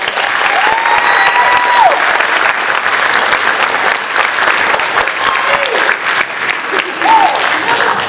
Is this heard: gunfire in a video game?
no